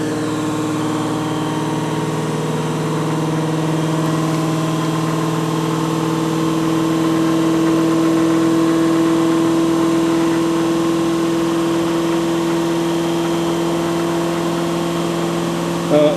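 A Bedini-style motor runs steadily behind polycarbonate shielding, giving a constant, fairly loud mechanical hum with stable tones that swell slightly midway, then hold; no talking.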